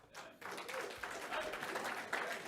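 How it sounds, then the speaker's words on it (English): A press conference audience applauds boxer Gervonta Davis with a sustained burst of clapping that rises quickly and holds steady, heard at a distance with some talk mixed in. "Give him a round of applause, Gervonta Davis"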